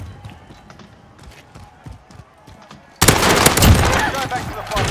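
Famas rifle fire in the Warzone video game, quiet scattered shots and footsteps at first, then a sudden loud, dense burst of rapid gunfire that continues to the end.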